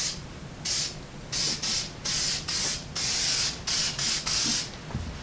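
Rust converter sprayed onto the rusty metal frame of a Model A hot rod shop truck, heard as a series of about nine short, close hissing bursts with brief pauses between them.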